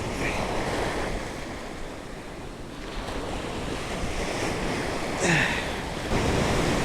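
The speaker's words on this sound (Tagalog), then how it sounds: "Lalaki na alon" Large ocean waves churn and crash along the Occidental Mindoro coast as a typhoon brings bad weather, a steady loud roar of surf mixed with gusty wind buffeting the microphone, with a sharper splash near the end.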